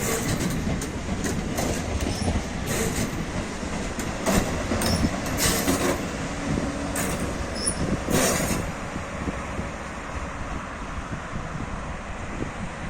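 A Trenitalia regional train rumbles steadily into a station with rhythmic clacking and wind-like roar, brakes squealing briefly near the end as it slows.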